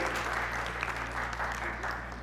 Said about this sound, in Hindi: एक बार जोरदार तालियां हो जाए फिर से हमारी संध्या के लिए।